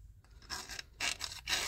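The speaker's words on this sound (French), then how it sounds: "J'ai mis un petit coup de lime" A metal file rasps against a clutch part in three or four short, close strokes, each a bright scraping swish separated by brief pauses.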